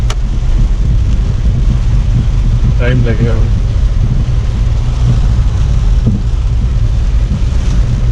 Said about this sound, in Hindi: नेपाली बारिश है ना,